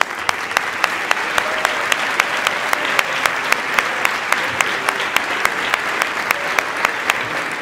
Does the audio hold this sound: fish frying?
no